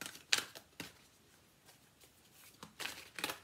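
Tarot cards are shuffled in a few quick, soft riffles and flutters, separated by short pauses, close by and fairly quiet.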